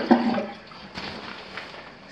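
A house bathroom toilet flushes with a short burst of rushing water that quickly drops into quieter gurgling draining, close and alone.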